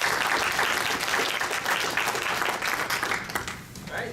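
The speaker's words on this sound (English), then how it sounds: "let's give Brandon one more round of applause" Applause from a seminar audience fills the room, a dense, steady wash of many hands clapping at close range with no pause.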